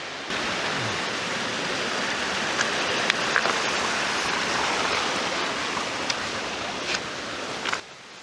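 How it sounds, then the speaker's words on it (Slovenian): A loud, wild mountain stream swollen by snowmelt rushes through the Bavšica valley beneath Bavški Grintavec, a steady, close roar of water that fills the whole stretch without pause until it cuts off at the end. "ali je potok precej glasnejši kot zjutraj"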